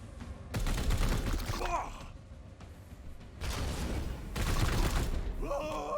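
Bursts of gunfire from the turn-based strategy game Chaos Gate Daemonhunters, played on Legendary difficulty, arrive as two dense volleys separated by a quieter pause, loud and close, with no talking.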